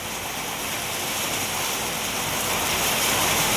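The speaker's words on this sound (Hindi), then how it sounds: "पर बहुत तेज़ बारिश हो रही है।" Heavy rain pours steadily in the hills on a cold, windy day, a dense, even roar of water hitting surfaces that fills the whole moment without any break or voice.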